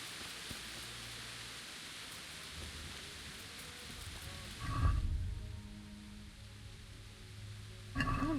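Steady rain hissing throughout a rainy day in the medieval video game Kingdom Come Deliverance, with a low rumble of thunder swelling midway and a brief sharp clatter near the end.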